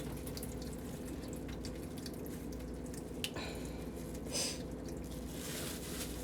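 Beef kidney and fish get a final rinse under a running tap in a kitchen sink, a steady wash of water with small splashes and drips, close and continuous, with no talking.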